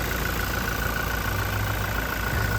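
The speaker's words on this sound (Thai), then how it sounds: "เครื่องยนต์เดินเรียบปกตินะครับ" A 2019 Toyota Revo 2.4 pickup truck engine idles smoothly and steadily up close, a constant low rumble with no revving or change in pitch.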